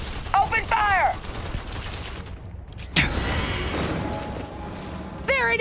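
Gunfire in the game Starfield: bursts of rapid automatic shots and impacts with a sharp blast near the middle, set among shouted in-game voices.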